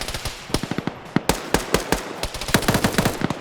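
Gunfire rattles through a large multiplayer battle game, with sharp rapid shots in quick bursts and scattered single cracks, close and loud, shot after shot with no talking.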